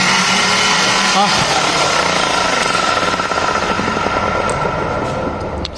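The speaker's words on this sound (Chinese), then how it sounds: "你再拿那个电钻转一下，再听一下来" Electric drill spinning the shaft of a Chevrolet Aveo gearbox on the bench, a loud continuous grinding rattle with fast clattering pulses that gradually eases toward the end.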